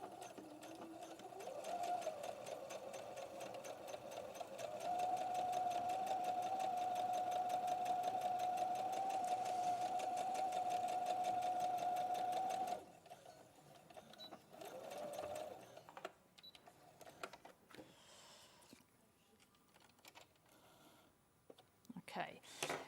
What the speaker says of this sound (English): I'm going to sew my 1 centimetre seam allowance, here.